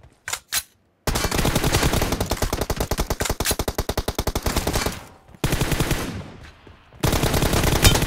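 Automatic gunfire in the mobile battle-royale game PUBG Mobile, loud and close: a couple of quick single shots, then long sustained machine-gun bursts with brief gaps and a final burst, no talking.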